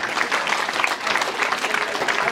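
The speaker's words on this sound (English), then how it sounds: "Give them a round of applause, please, everybody." At an under-18s football club award evening during a comedy hypnotist show, the audience keeps up a continuous, lively applause, dense and moderately close, with individual claps rippling through.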